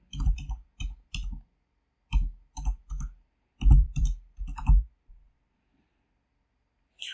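A computer mouse clicks sharply several times, single and double clicks in small clusters with short gaps, close and distinct in an otherwise quiet room.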